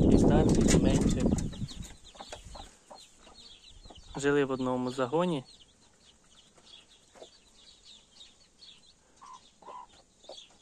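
Two broody hens with a mixed brood of chicks make soft repeated clucks and a longer drawn call, while chicks peep faintly throughout; a voice speaks loudly at the start.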